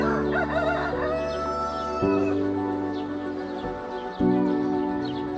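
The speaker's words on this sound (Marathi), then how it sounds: "कोंबड्या उठवतात." Roosters crow one after another in a Konkan village at dawn, long ringing calls close by with clucking hens and other birds in the background.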